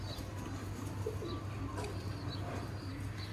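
Sialkoti-bred Ferozpuri pigeons coo softly at a loft, low rolling calls under faint chirps and a steady background hum, fairly quiet and without talk.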